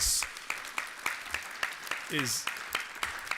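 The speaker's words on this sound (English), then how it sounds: "let's give her a round of applause" Sparse, evenly spaced claps, apparently from a small group, ring out in an event hall as a round of applause for Coach Berry, with a brief voice surfacing midway.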